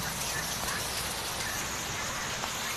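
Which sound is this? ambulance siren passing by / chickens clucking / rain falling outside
rain falling outside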